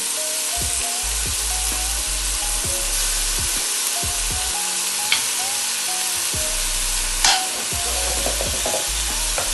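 Jamaican oxtail sizzles and browns in a pot with a constant frying hiss, spoon stirring and bubbling, loud and close, plus a couple of brief clanks and no speech.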